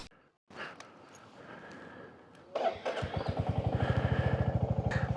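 A motorcycle starts up near Old Manali in light rain, with a brief quiet start, some handling noise, then the engine catching and settling into a steady, close, rhythmic idle thump.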